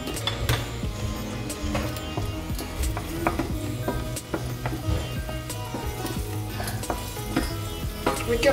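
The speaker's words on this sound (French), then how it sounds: "je vais faire revenir avec l'huile" Onion and turmeric sautéing in oil in a pan, a steady close sizzle with scattered pops and crackles and occasional stirring clatter, carrying on without any talk.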